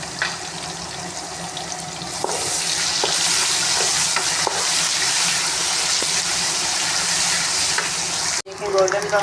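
Ginger, garlic and green chili paste sizzles and fries steadily in a pan while making chana pulao, a loud continuous crackle with a few stirring knocks and a brief break near the end.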